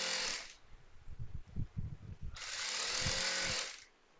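Electric sewing machine stitching a pillow cover, running in two steady whirring bursts separated by a pause with soft handling clicks and rustle, close and moderately loud.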